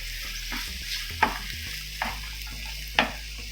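Mushrooms cook in a pan with chopped ginger and garlic, sizzling steadily over a low hum, with three brief utensil clicks and scrapes spread through.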